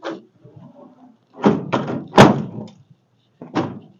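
Door of a 1946 International truck, long abandoned, swinging shut with a few loud solid thuds and latch clunks, close by, with short pauses between attempts.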